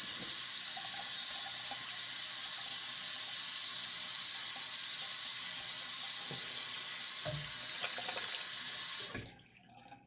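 Tap water runs in a steady, close rush into a sink for rinsing after a shave with a Japanese kamisori straight razor, then stops abruptly near the end.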